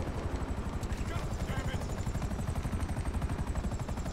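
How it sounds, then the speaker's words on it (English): Helicopter in the video game GTA 5 Online: a steady, loud rotor chop pulses throughout, with dense engine rumble and possible gunfire bursts mixed in, while voices talk over it. "So you taking my helicopter?"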